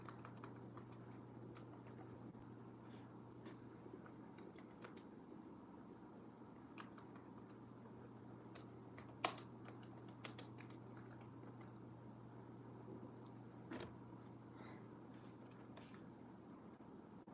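Rapid typing on a computer keyboard, close and steady, with scattered louder key clacks over a low constant hum.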